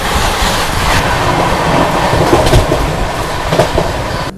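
Onboard the 12398 New Delhi–Gaya Mahabodhi Express at speed: a loud, continuous rumble of wheels and carriage rattle with faint rhythmic clacks, no voices.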